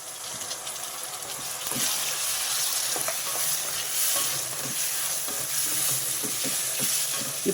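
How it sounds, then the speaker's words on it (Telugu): Diced tomatoes hit a hot pan of fried ginger-garlic paste for a spicy red-chili chicken gravy curry, giving a steady, close sizzle with repeated spatula scrapes and taps as they are stirred, and no talking. "అల్లం వెల్లుల్లి పేస్ట్ వేగిపోయింది ఇప్పుడు ముందుగా కట్ చేసి పెట్టుకున్న టమాటాలు వేసేస్తున్నాను"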